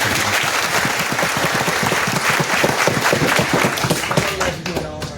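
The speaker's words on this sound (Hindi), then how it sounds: "एक बार जोरदार ताली।" At a Bihar Badlav Yatra training gathering, a crowd claps loudly in a brisk, roughly rhythmic burst with individual claps distinct, the ovation tapering slightly toward the end.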